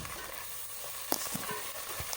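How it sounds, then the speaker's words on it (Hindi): A spoonful of ginger and garlic paste sizzles steadily in a hot pan while being stirred, with a few soft scraping knocks of the spoon near the end. "अदरक लहसुन का पेस्ट शामिल करने के बाद इसको अच्छे से हिला लेंगे"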